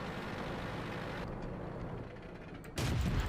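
A tank cannon fires in World of Tanks, a sudden loud broadband blast near the end that follows a stretch of steady engine-like rumble and low noise.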